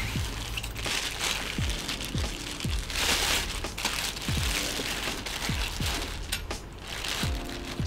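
Zippered carry bags holding large ring light stands being opened up close, a continuous crinkling, rustling fabric and zipper noise with several soft knocks and thumps as the contents shift.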